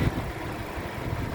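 A 2015 Suzuki Ertiga 1.4 GX manual, with a 1400 cc four-cylinder front-wheel-drive engine and about 87,000 km, idles with a low, steady, close rumble.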